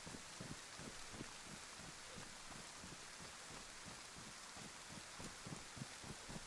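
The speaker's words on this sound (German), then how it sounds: "Eigentlich ist der Regen gar nicht mal so schlecht, wenn du halt die richtige Isolation hast." Rain falls in the DayZ video game as a steady, faint wash of noise with soft patters and no voices.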